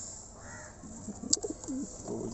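Soft, low cooing from pigeons, a few brief throaty calls against a steady background hiss, with a small sharp click midway.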